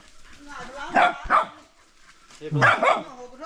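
A dog gives a few close, loud barks in two short bursts, with people talking around it.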